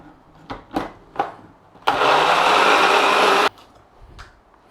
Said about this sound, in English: And we're going to give that a blend.